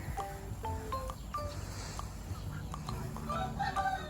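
Young laying hens from a first flock of ten cluck in short, scattered calls. A few louder rooster-like notes rise over a steady low hum and light rustling, close and continuous throughout.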